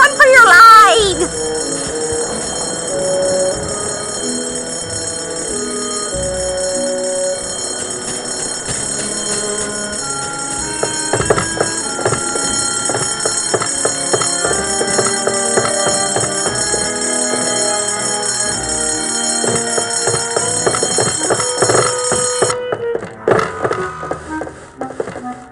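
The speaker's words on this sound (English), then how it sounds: "False fire alarms cost lives." A fire alarm bell in the Escape from Monkey Island video game rings in a long, rapid metallic clatter that runs loud and continuous for most of the stretch, with game voices talking over it and a few other effects mixed in.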